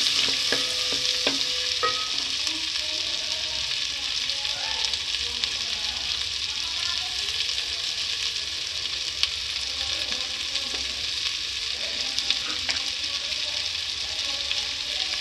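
Ginger and garlic fry over medium heat in a soup pan, making a continuous close sizzle with small pops and the scrape of stirring. No words are spoken.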